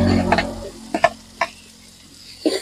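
A spoon scrapes and taps against a pan as tomatoes are stirred into village-style pork chilli curry, a few distinct clinks over a soft sizzle of frying.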